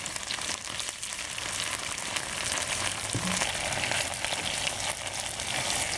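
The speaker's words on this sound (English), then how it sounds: "so you have to fry them a little bit longer." Bigger chunks of chicken stir fry in a pan for Hunan chicken, giving a steady, dense sizzle that runs evenly throughout at moderate loudness. No one speaks.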